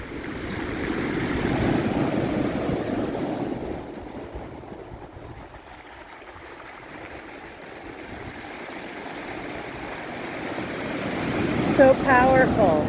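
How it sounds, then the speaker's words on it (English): Waves surge and crash onto a rocky Cornwall beach, a broad continuous roar of surf that swells and eases, with brief clattering near the end as rocks are dragged back. "look at how these waves have brought the rocks up and pulled them back in"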